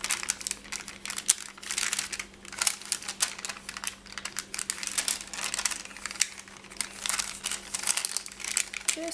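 Polymer clay pendant piece peeled up from a work surface, giving a run of quiet, crackly crinkling and sticky tearing ticks in irregular bursts, close-up and alone over a faint steady hum.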